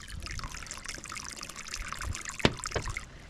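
Water trickles and pours steadily from a self-pumping outdoor grey water filtration unit into a bucket, a continuous close splashing stream with a brief louder splash near the end.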